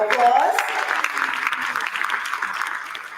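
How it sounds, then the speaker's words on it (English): Applause from a crowd at a councilwoman's inauguration ceremony runs steadily at moderate volume for a few seconds, with a voice audible briefly at the start. "Let's give him a round of applause"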